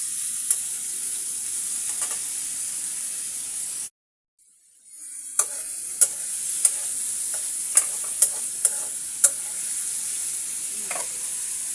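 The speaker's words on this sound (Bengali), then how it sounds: "এবারে আমি সুন্দর করে ভেজে নিচ্ছি চিংড়ি মাছটা।" Prawns fry in a pan with a steady bright sizzle, stirred now and then with sharp clicks of a spatula; the sizzle drops out briefly in the middle and then returns.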